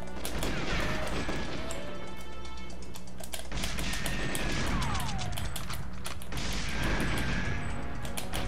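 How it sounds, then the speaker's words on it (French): Rapid gunfire and explosions fill a GoldenEye 007 firefight, with dense bursts of shots, metallic crashes and booming blasts continuing loudly with no pauses across the whole stretch. "Et là je tire dans son arme."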